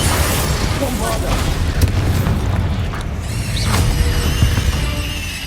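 Bombarda spell blasts go off in Hogwarts Legacy, with a few loud booms and bursts spread over a dense, busy mix of game sound.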